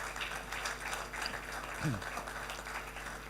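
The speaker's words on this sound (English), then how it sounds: "Please give a round of applause to our panelists." Steady conference audience applause for a panel fills the whole stretch, a dense patter of many hands clapping at moderate volume with faint voices mixed in.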